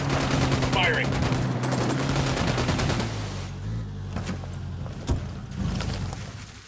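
Gunfire in Ghost Recon Wildlands: a dense burst of rapid automatic shots for the first few seconds, then scattered single cracks and thuds as the firing tapers off, over a low engine-like rumble.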